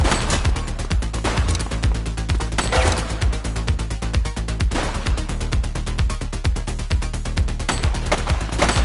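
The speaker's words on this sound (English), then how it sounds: "Shots fired!" Gunfire in The Precinct during a police chase, with steady, rapid bursts of loud shots hammering through the whole stretch alongside heavy booming impacts and no pauses.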